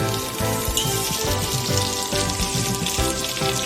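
Boiled, chopped potatoes frying with onions in hot oil, a steady close crackling sizzle with dense popping throughout.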